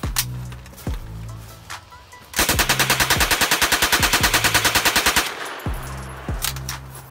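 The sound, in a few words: blue and red toy gun firing machine-gun sounds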